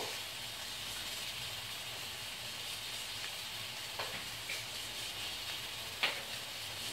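Onions frying in a pan for mango chutney give a steady, even hiss of sizzling across the whole stretch, with a few faint clicks and a brief word spoken over it.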